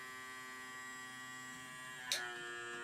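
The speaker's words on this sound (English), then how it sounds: "it's sucking the extra oxygen out of the jar between the lid and the rim of the lid" A small vacuum pump sealing a glass jar of sea moss gives off a steady, faint electric hum throughout, then a single brief click near the end as the lid seals, heard up close with no talking.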